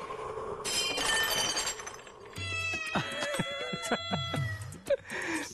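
A cat meows in a few short, rising cries at moderate distance, following an earlier stretch of bright clattering noise, with no talking heard.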